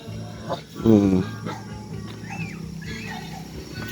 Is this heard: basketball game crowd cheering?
no